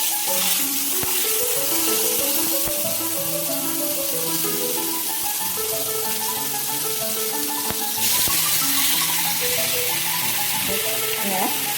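Chicken pieces frying in olive oil in a pan for an Alfaham chicken dish, a steady close sizzle running throughout with light clinks and stirring, with what sounds like background music underneath.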